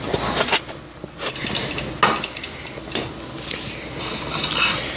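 A spoon scrapes and clinks against a bowl while slime is being mixed, giving a series of irregular knocks and scraping strokes that sound close and moderately loud.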